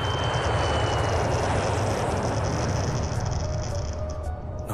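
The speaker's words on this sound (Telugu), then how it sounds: "It's a flight." Airplane noise at an airport, a loud, steady broadband roar with a low rumble and high whine that holds throughout, close and unbroken, fading slightly toward the end.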